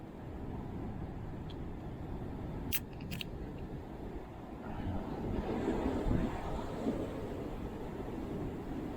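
Strong wind roars across the microphone outdoors during rainy weather, a steady rough rumble that swells louder partway through. A couple of faint sharp ticks sound briefly near the start.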